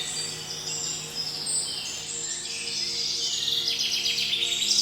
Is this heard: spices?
no